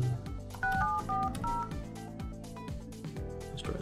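Telephone dialing tones play while testing an Asterisk phone line: a quick run of short paired-pitch beeps near the start, followed by music-like tones, loud and clear with no talking.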